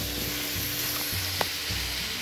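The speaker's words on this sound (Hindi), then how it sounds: "अब इनको अच्छी तरह फ्राई कर लूँगी" Onion, garlic and tomatoes frying in a pan give a steady, dense sizzle close by, with one brief utensil tap partway through and no voices.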